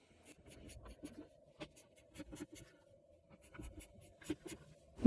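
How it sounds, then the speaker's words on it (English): Cream colored pencil scratching a few sparse strokes onto the smooth side of cardstock, faint dry scrapes and light taps spread across a quiet background, close up. "you're going to want to add a few strokes of this cream colored pencil"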